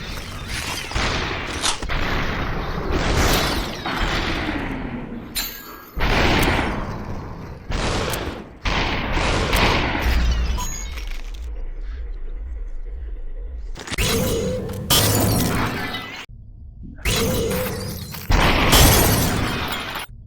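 Repeated gunshots and crisp shattering bursts in the Superhot video game come in loud, clustered waves with short quiet gaps between them, close and punchy.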